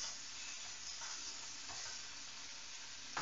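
Beef steak turned over in a hot pan fries with a soft, continuous sizzle, faint and steady, with a few light scrapes and no voices.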